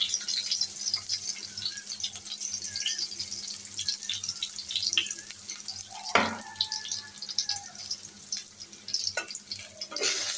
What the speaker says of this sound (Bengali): চুলার পরে তেল দিয়ে দিয়েছি, এখন দেখো পেঁয়াজ কুচি দিয়ে দিচ্ছি